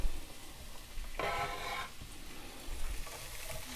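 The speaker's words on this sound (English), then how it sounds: "I put some oil in my cast iron skillet. And I'm going to drop in my vegetables." Vegetables drop into hot oil in a cast iron skillet, giving a short burst of bright sizzling that fades back into a quieter background hiss.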